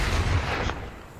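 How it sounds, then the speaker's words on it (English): An MG82 light machine gun from Call of Duty: Black Ops Cold War lets off a heavy, booming burst of gunfire, loud and close, that decays quickly into a fading rumble. "The MG82, the LMG. Yeah. It's a light machine gun."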